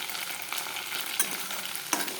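Large chicken pakoras fry in oil in a wok, a soft close sizzle broken by a couple of sharp stirring scrapes and clinks, with no talking.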